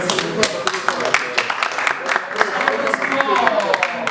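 Brussels audience clapping for a speaker, scattered sharp claps of irregular rhythm mixed with crowd murmur and voices in the room.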